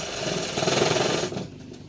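A sewing machine stitches a watch pocket on a pair of pants, a close, dense mechanical rattle that speeds up briefly then slows and fades near the end.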